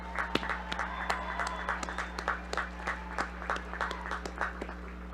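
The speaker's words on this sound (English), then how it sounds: "One more round of applause for these folks." Scattered clapping from a small crowd at a university commencement ceremony, uneven and moderately loud, with individual claps standing out over a steady low hum.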